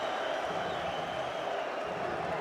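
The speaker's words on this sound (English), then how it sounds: "Crowd go wild again" Handball arena crowd roaring at a European Championship match between Sweden and Macedonia, a dense, steady wash of cheering and noise that holds at an even level throughout.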